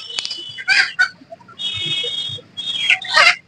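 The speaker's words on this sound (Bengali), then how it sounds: "দেশি মুরগি" Native chickens at an open-field market in Lalmatia, Dhaka, cluck and squawk in several short, close bursts, with one drawn-out call among them.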